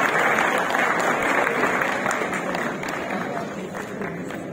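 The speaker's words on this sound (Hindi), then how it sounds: "आपकी भरपूर तालियों में तशरीफ लाएंगे" Audience applause in Alhamra Hall, Lahore, at a classical music festival, greeting a guest as he is called to the stage; dense, steady clapping from a large crowd that holds strong throughout, thinning slightly toward the end.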